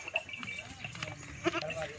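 Goats and their young kids bleat at a goat farm, several short cries scattered across the clip, moderately close, mixed with people talking nearby.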